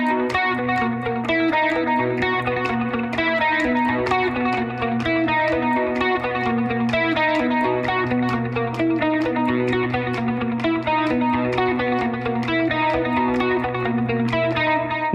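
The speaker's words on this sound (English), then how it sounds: "especially a delay and sort of a chorus flange kind of effect" Electric guitar part, played up to speed through delay and chorus-flange effects, a steady stream of picked notes with shimmering, echoing repeats, loud and continuous with no voices.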